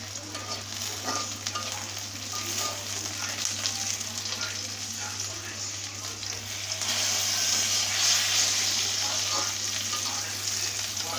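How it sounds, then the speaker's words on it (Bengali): Chillies fry in a pan for a bhorta, giving a continuous close sizzle with a steady low hum beneath it. The sizzle grows slightly louder partway through. "দেখতে পাচ্ছেন মরিচগুলো কীভাবে ভাজতেছে"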